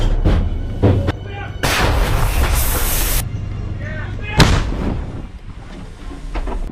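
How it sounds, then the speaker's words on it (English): Russian artillery fire during a Bradley fighting vehicle evacuation, with heavy booming blasts at intervals, including a long roaring burst and a sharp later impact, over a rumbling battlefield background with some voices. "Russian artillery opens up."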